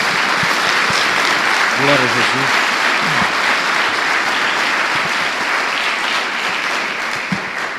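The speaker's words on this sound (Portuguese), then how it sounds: "Dê uma salva de palmas ao Senhor" Congregation at a Portuguese-language church service applauding the Lord, a full, continuous wave of clapping that fades slightly toward the end, with a brief spoken exclamation under it.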